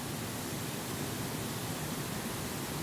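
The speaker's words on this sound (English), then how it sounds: "You can relax here to the soothing sound of the waterfall" Hooker Falls, a wide but not very high waterfall, pours in a dense, steady rush of broadband water noise, continuous and fairly loud with no voices.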